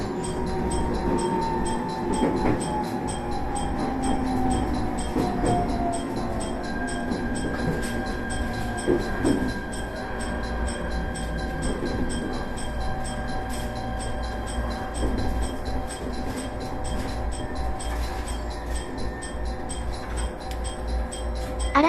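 An electric train runs along the Hokuriku line with a steady loud rumble and clatter of wheels, a rising and falling motor whine, and faint rhythmic clicks, heard from on board throughout.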